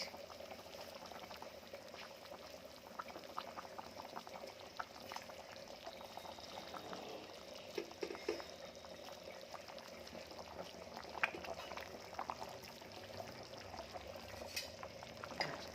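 Fish curry simmering in a pot as pieces of fish are slipped in, giving a faint, continuous bubbling with soft liquid movement and light stirring, no voices.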